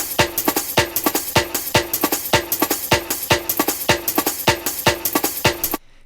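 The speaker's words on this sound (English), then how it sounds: "And then there is this little shuffle part at the end as we move into different phrases." A fast jungle breakbeat in 90s N64 ambient style rolls through a shuffling drum pattern with dense snare and hat hits, up close and steady, before stopping abruptly at the end of the phrase.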